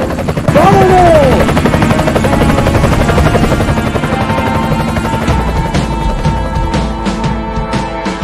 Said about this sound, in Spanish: ¡Súbete al helicóptero!